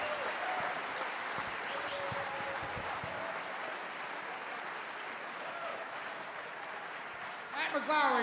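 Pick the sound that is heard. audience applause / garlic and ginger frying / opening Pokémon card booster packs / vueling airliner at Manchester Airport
audience applause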